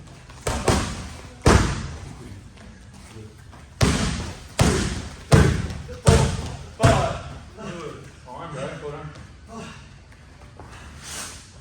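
Hard Muay Thai kicks strike pads in a series of heavy, close thuds, about eight impacts in quick succession with loud breathing and grunts between them.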